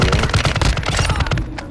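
Rapid automatic gunfire in the Call of Duty DMZ video game, a fast rhythmic burst of close, loud shots in steady succession that thins out toward the end, with no voices over it.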